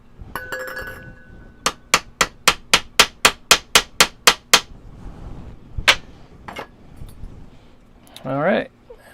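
A hammer taps down wire on a homemade windchime, a quick run of about a dozen even, sharp metallic clinks, followed by a few scattered louder knocks, close and clear.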